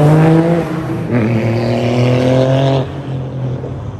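A car drifts on a road in Japan with the handbrake pulled, its engine buzzing loud and close with shifting revs and a strained tone, the pitch dropping as it slides through the turn.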